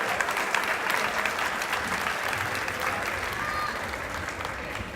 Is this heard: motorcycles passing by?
no